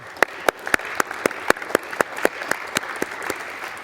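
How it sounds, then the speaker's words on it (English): Rhythmic clapping on the House floor for staff members, with a steady beat of sharp, evenly spaced claps over a soft murmur of further applause. "And let's give them a round of applause."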